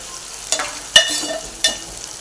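Tomatoes and curry leaves sautéing in a pan, heard as a soft sizzle broken by three sharp stirring scrapes, close by.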